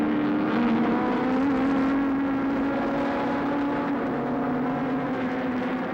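Historic touring cars from around 1981, Ford Cortinas and 1964 EH Holdens, racing at Oran Park, heard as a steady, dense engine roar from a field of cars that stays at an even loudness throughout.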